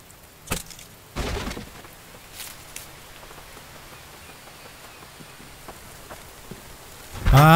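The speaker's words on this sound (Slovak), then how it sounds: "ale už je to v poriadku a zasa začína pršať" Rain falling in the survival video game The Infected, a low steady patter with a few sharper knocks and thumps scattered through it and a louder burst of noise at the very end.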